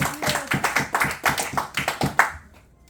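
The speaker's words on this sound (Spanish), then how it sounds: "Denle un fuerte aplauso al Señor." Church congregation clapping together in a steady rhythmic beat, about a dozen sharp claps at an even pace, close and fairly loud, ending abruptly and fading into a short quiet tail.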